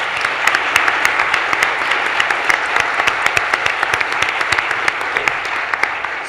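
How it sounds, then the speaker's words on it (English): An audience at a New York State Council on Women and Girls event claps steadily in a dense round of applause, with a few sharper individual claps standing out near the front. "I want to give them another round of applause for everything they've given us."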